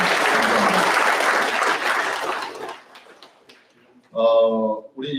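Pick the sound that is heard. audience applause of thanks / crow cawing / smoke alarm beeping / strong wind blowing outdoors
audience applause of thanks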